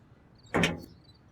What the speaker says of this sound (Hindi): जुलेखा खोल दरवाजा।